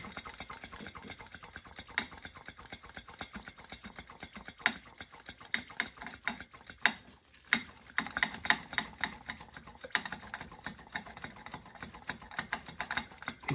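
A handheld vacuum pump draws a vacuum while brake or clutch fluid is bled on a Toyota MR2 SW20, giving a fast, steady train of close, light clicks and ratchety pumping strokes with a brief pause midway.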